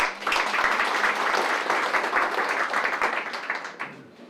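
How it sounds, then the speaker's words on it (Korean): Audience applause after a thank-you at a neighborhood community event in Gwangmyeong, a sustained crowd clapping that rises quickly, holds steady and starts tapering near the end. "감사의 뜻 박수 한번 보내주십시오"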